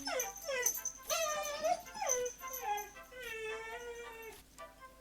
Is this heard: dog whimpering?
yes